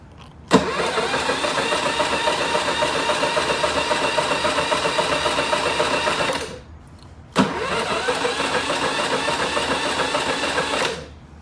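A gas generator engine runs in two loud, steady bursts, each starting abruptly and droning evenly for several seconds before cutting out, with a short pause between the two runs.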